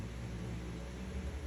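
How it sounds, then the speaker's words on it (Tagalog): Steady broadband whir of a noisy electric fan running close by indoors, a constant even hum and hiss filling the whole moment with no talk over it. "pasensya na sa electric fan, maingay"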